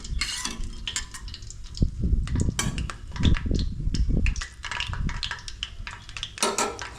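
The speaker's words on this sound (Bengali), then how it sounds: "দিয়ে একটু তেলের মধ্যে ভালো করে নাড়িয়ে চাড়িয়ে নেব।" Whole garam masala, dried red chillies and bay leaves stirred in hot oil in a pan, with a continuous busy sizzle and repeated close scraping and clinking of a spoon against the metal, no talking.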